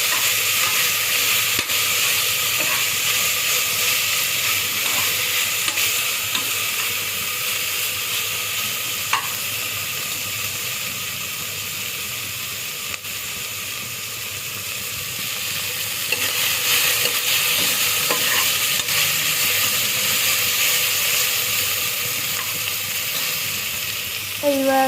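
Mint leaves roast in a frying pan for capsicum tomato rice, sizzling and crackling steadily close by while a spoon stirs with occasional scrapes and taps.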